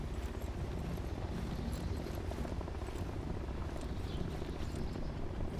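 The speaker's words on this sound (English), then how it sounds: "Ah, chopper is taking off! Chopper is taking off!" A helicopter takes off in Arma 3, giving a continuous, dense rotor drone with a faint rhythmic chop. The sound holds fairly level throughout with no voices.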